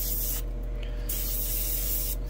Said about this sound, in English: Yeah, you can see the paint is in there and we are spraying.